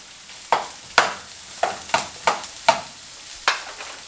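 Leftover ground meat with mushroom being stirred in a frying pan for cabbage fried rice, with sharp scraping strokes about every half second over a faint, steady sizzle.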